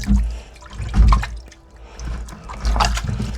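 Rusty hub caps dropped into a container of vinegar, with brief liquid splashes and sloshing as they go in, close and moderately loud, alone without talk.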